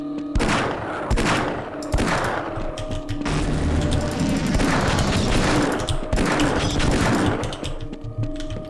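Rapid gunfire in Half-Life: Decay, loud bursts and repeated shots with booming impacts across the whole stretch, separated by brief gaps, no talking over it.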